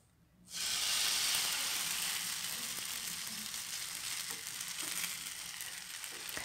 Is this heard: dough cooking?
yes